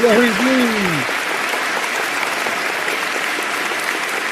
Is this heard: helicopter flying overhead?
no